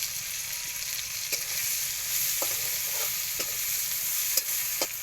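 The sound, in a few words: green chilies added to hot oil, frying and stirring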